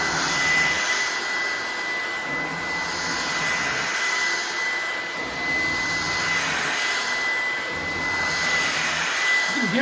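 A Ryobi 18V ONE+ cordless stick vacuum runs on its high setting, a loud steady whine and rushing airflow that swells and dips slightly as it moves across a surface, with no voices.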